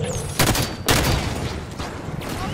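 Gunfire in the Halo 5 video game, rapid overlapping bursts of shots with two sharp louder blasts early on, then a continuous dense crackle of fire from near and far.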